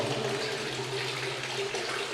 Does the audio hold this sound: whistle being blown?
no